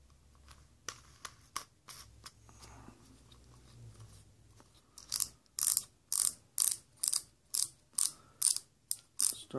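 Metal parts of a Quantum Escalade baitcasting reel clicking as the drag and washers go back on, first scattered light ticks, then a steady run of about a dozen sharp, close ratcheting clicks at an even rhythm.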